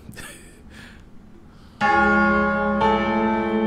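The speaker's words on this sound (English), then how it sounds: "Tubular bells, right?" Tubular bells in a horror film score: after a few soft, airy tones, two loud, ringing metallic strikes sound close and clear, the second following about a second after the first, each with a long shimmering sustain.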